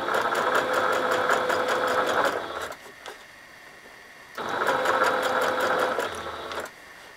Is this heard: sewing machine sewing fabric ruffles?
yes